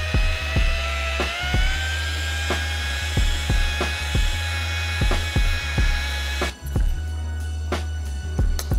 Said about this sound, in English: I have the white pad on the buffer